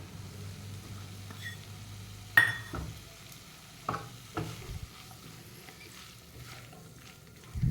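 Salt and tomatoes stirred into a frying wild jalebi (Manila tamarind) vegetable curry: a low, steady sizzle with a few sharp scrapes and clinks from the spoon in the pan, and no talking.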